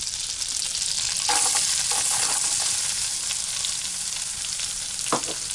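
Four tablespoons of butter sizzle and hiss steadily in a pan while cooking a chanterelle mushroom biscuit recipe, with a few faint clinks from stirring.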